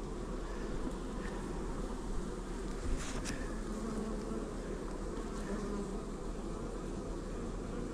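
Bees from a swarm taken out of a bait hive buzz steadily around emerging brood, a dense, close hum that holds without a break and has no voices over it.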